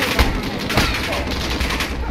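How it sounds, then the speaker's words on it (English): Warzone video game gunfire crackles in a dense, rapid fusillade of overlapping shots from several directions, loud and continuous, with players talking underneath. "I'm like getting shot at from everywhere"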